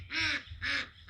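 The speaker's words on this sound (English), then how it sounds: "Oh, the ducks." Two loud, nasal honking calls from ducks at a garden, each roughly a third of a second long and evenly spaced, heard up close with no talking.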